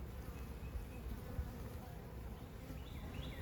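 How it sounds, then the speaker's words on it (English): A dense, steady drone of honey bees buzzing from an open hive during an early May inspection, close and continuous, with no talking. "So they're just doing normal bee stuff."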